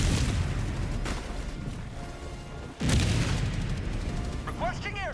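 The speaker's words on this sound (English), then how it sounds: "Firing orbital strike." An orbital strike in a video game: a deep booming blast rolls out at the start, then a second heavy boom hits near the middle, followed by rumbling and brief whooshing sweeps at the end.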